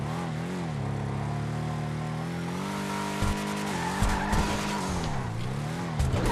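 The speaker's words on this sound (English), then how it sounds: "So there you go, I've crashed it already." A Schyster Deviant muscle car in GTA Online, engine droning steadily with a tire squeal, then short crash thumps and knocks near the end, close and loud.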